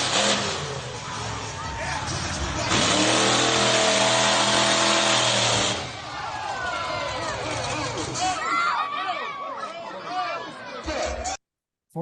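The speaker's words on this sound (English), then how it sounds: "Listen to the throttle." Truck engine throttle revving at an event with spectators, loud and sustained with rising and falling revs over crowd noise and chatter, ending abruptly.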